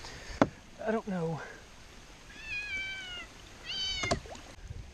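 A cat near a lake during a motorized kayak outing meows several times, rising and falling wails spaced apart, fairly close, with brief sharp knocks between and faint background noise.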